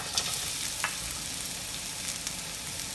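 A full onion going into a little hot oil for a vegetable stir fry, giving a dense, steady sizzle with small crackles and pops throughout, close and loud with no talk.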